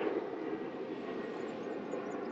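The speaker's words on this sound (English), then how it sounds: "Planes are back in the sky." An airplane passes overhead with a steady, moderately loud drone that holds even and continuous through the moment.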